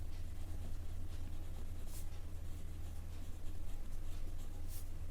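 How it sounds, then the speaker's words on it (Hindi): Pen or marker strokes on paper while writing a math equation by hand for a Class 10 linear equations lesson, a soft continuous scratching over a steady low hum, with no talking. "तो पहले मैं इक्वेशन लिख लेती हूँ"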